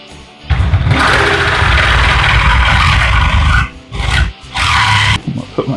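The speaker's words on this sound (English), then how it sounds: "it takes a long time to cut something like this with a jigsaw" A jigsaw cuts a sink opening through a glued countertop, its loud buzzing rasp running steadily, breaking off briefly, then resuming in two short bursts, with no talk.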